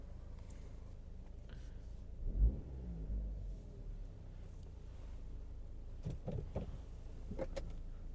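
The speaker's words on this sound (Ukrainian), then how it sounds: "електродзеркала також працюють. Дзеркала складуються." Electric side mirrors on a Hyundai Tucson folding inside the parked car, a faint motor whir with a soft thunk, followed later by a few quiet clicks against a low cabin hum.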